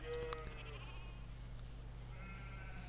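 A sheep bleats once, short and faint, over the quiet ambient backdrop of the strategy game Civilization V, with a steady low hum beneath.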